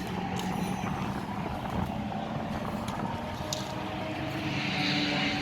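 DTM Mercedes 190 race cars at the Nürburgring Classic, a loud sustained engine roar with a droning mechanical tone, holding steady and swelling slightly toward the end, with no talk over it.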